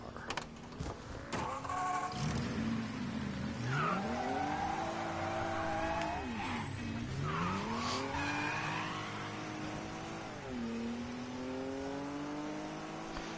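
A car drifting in the Mafia 3 video game, the engine revving and sweeping up and down while tires squeal in long rising and falling screeches, loud and steady throughout.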